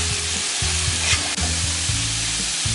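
Potatoes fry for alu posto with a strong, close, continuous sizzle as turmeric powder is stirred in, with a utensil scraping through the oil in uneven strokes; no one talks.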